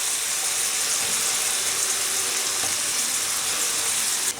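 Steaks seasoned with soy sauce and pepper fry in neutral oil in a pan, giving a loud, steady, close sizzle that crackles evenly throughout with no break.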